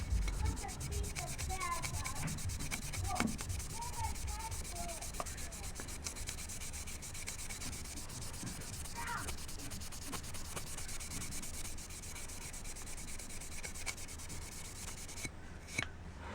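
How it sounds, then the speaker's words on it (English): Steady sanding of an RX200 vape mod plate to a brushed finish, a continuous close rubbing hiss broken by a few brief scrapes and taps, with no talk. "I want that sanded out. And I just want a nice smooth brushed finish."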